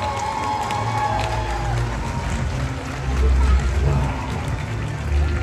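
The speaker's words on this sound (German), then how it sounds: "bitte begrüßen Sie mit einem riesen Applaus unsere Stars des Tages" A large audience at a red carpet event applauds and cheers, a thick continuous roar of clapping that swells louder toward the middle and again at the end.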